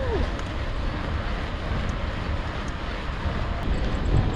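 Steady wind blowing head-on from the northwest during a ride along the Olympic Discovery Trail, a constant rushing roar buffeting the microphone without a break.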